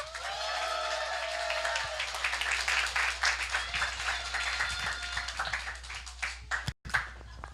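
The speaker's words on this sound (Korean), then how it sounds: "큰 박수 부탁드립니다." Audience clapping continuously for several seconds, with some voices and cheers mixed in, then a brief cut and the clapping resumes.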